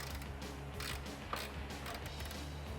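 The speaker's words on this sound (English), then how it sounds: "So I got my 1/2 inch ratchet up here. We're actually just gonna break this guy loose." A 1/2 inch ratchet works a control arm nut loose on a 1979-2004 Mustang, giving faint, quiet clicking and creaking mechanical sounds with one sharper click midway.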